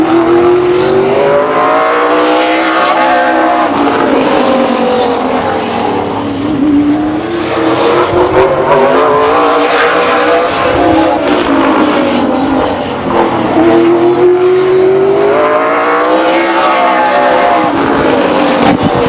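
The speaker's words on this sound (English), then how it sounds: "On the track in a 38 car from Fremont, Troy Ermish." The number 38 car in an SRL race at Stockton 99 Speedway in 2003 laps the oval, its loud engine swelling and fading as it passes by again and again, with no talk over it.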